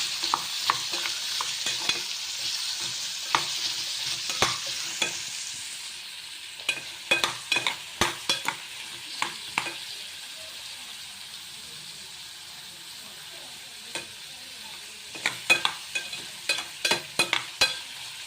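Carrot and radish stir-frying in a pan, a constant frying hiss broken by bursts of sharp spatula clatters and scrapes against the metal, close up with no talk.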